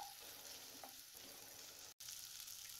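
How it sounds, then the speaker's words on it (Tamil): Soft, steady sizzling of tomatoes sautéing in oil in a pan, quiet and close, with a momentary dropout partway through. "இப்போ இந்த தக்காளியோட பச்சை வாசனை போகிற அளவுக்கு நல்லா வதக்கி விட்டுக்கலாம்"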